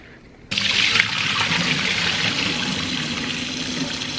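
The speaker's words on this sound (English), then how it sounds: "Then after, I rinse it with cold water." Cold water runs steadily from a tap over raw chicken in a bowl, a sudden trickling splash that begins after a quiet moment and continues evenly and fairly loud, with no talking.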